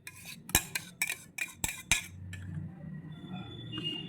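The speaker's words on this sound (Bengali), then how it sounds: "একটা বাটির মধ্যে এবার পেস্টটিকে ঢেলে নেব।" A spoon scrapes jamun and sugar paste into a bowl, with a quick run of sharp metallic taps and clinks in the first two seconds, then softer scraping and faint rustle, close and quiet.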